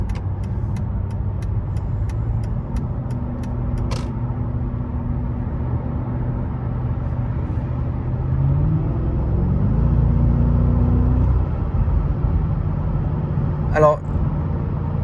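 A car driving with sport mode engaged, a steady low engine and road rumble from inside the cabin that swells slightly as it accelerates, with someone speaking French over it and a brief click near the end.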